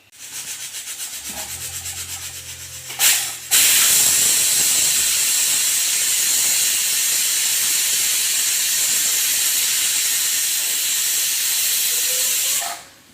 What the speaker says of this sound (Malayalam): ആ 2 വിസിൽ വന്നിട്ടോ.